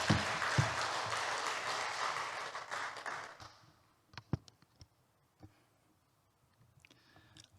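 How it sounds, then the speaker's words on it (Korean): A church congregation claps to welcome the pastor at a revival meeting, steady applause for about three seconds that dies away into a few scattered taps and clicks in a quiet room. "우리 박수로 맞이하도록 하겠습니다"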